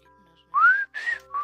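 A person whistles three short, clear rising notes close to the microphone, each separated by brief pauses, with no talk over them.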